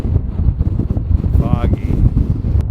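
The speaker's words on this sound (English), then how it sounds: "Windy and cloudy." Strong gusts of wind above the tree line on a mountain summit buffet the microphone in heavy, uneven rumbling bursts, with a brief tonal whistle partway through.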